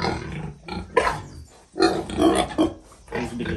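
Pig on a farm giving a series of short, close grunts and snorts in irregular bursts, fairly loud.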